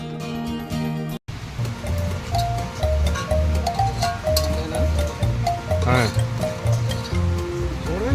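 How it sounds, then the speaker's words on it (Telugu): Water at Valasampeta waterfall rushes in a steady broadband roar, heard under continuous nearby talking. "చివరికి మన డెస్టినేషన్ అయినటువంటి వలసంపేట వాటర్ ఫాల్స్ చేరుకున్నాము"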